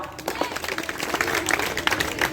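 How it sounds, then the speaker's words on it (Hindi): Audience at a youth group's general knowledge competition in Mathura applauding; brisk, many-handed clapping that swells and stays dense, fairly close, with a voice faintly underneath. "ये भाई यदुवीर के लिए जोरदार तालियां बजाओ।"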